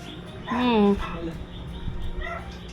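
A dog gives a short, high whining yelp, followed by low household noise and faint scuffling nearby.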